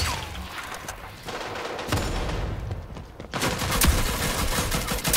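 Gunfire from the online shooter Rogue Company, a dense burst of rapid shots and impacts that swells louder toward the end, loud and close with no talk over it.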